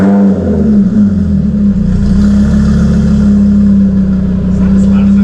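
A Lamborghini Huracan fitted with a forged carbon wing fires up and revs, a loud, deep engine roar with a brief rising rev early on, then a strong steady idle drone close to the listener.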